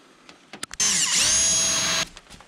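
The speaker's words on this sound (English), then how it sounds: "I'm going to use my 1/4-inch drill bit" A 1/4-inch drill bit bores a hole at a center-punched mark during a hood ornament install on a first-generation Ram Cummins truck, one steady high whine lasting over a second, close and loud, with a few brief knocks before it.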